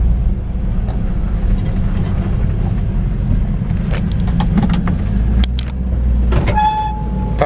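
A 1955 Ford F-100 pickup truck driving, its steady low engine rumble and road noise continuing throughout, with a brief higher tone and clicks near the end.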